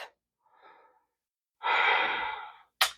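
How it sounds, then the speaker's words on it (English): Audible breaths during a chair yoga exercise for the back: a soft inhale, then a long, full exhale lasting about a second, followed by a short sharp breath, all close and alone with no talk. "Breath."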